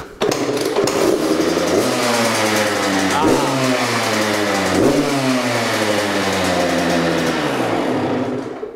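A motocross bike at a track is started on the choke, and the engine catches quickly. It then runs loud and close, climbing through a few revs and settling into a steady rough idle with wavering pitch.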